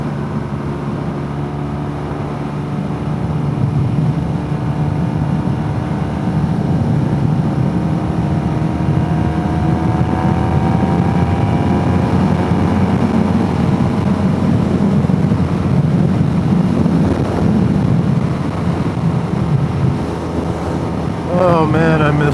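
A BMW R nineT motorcycle drones steadily at cruising speed, with constant wind buffeting the microphone and a low engine note holding throughout.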